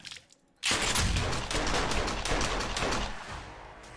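Sudden burst of enemy gunfire in the survival game 7 Days to Die, a rapid string of loud automatic shots that starts abruptly after a short near-silence and keeps rattling on.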